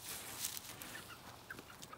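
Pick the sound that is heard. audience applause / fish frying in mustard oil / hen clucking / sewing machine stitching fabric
hen clucking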